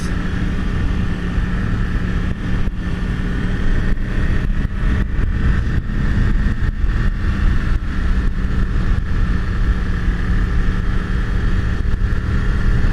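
A Yamaha R1 sport motorcycle roars loudly and close while warming up its tires, a constant, heavy engine drone with no let-up across the whole stretch.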